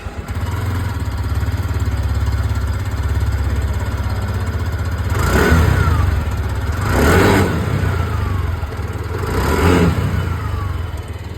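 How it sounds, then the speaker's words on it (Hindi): A TVS Jupiter 110 scooter idles with a steady low exhaust putter, revved three times in short bursts that rise and fall, close and loud. "सबसे पहले मैं आप लोग को यहाँ पर जो एग्जॉस्ट साउंड है वो सुनाता हूँ। स्टार्ट करता हूँ विथ जुपिटर 110"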